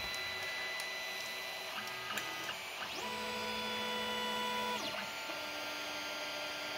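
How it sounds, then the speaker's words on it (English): A 3D printer prints a levelling square, its stepper motors whining in shifting tones as the head moves, with a steady hum underneath. "Right, printing the square again with the adjustment."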